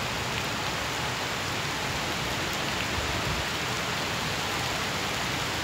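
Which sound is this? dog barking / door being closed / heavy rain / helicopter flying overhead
heavy rain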